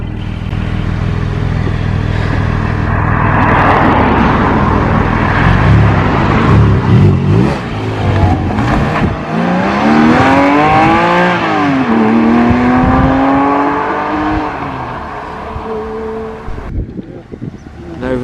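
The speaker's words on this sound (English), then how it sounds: "Porsche Cayman's also leaving now." A Porsche Cayman pulls away from a classic and sports car meet, its engine note rising and shifting over several seconds as it drives off, loud and close at first among other idling cars before fading.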